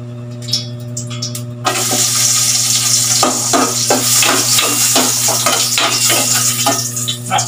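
Onion and garlic hit hot cooking oil with a loud, steady sizzle that swells up after a quieter start, with stirring clatter and utensil scrapes over a constant low hum.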